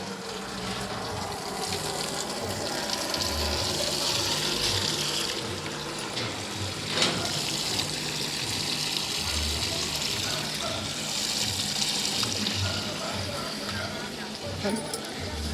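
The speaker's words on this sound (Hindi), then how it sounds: "और अब हम अपने पौधों में पानी डालने जा रहे हैं।" Water poured onto potted plants in a small home garden, a steady gushing, splashing flow running throughout with a dog and people talking at times in the background.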